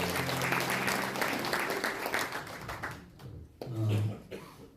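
Audience applause at a 50th-anniversary commemorative ceremony of the Syngman Rhee founding-president memorial society: a steady clatter of many hands at moderate distance for about three seconds, then fading, with a voice speaking briefly near the end.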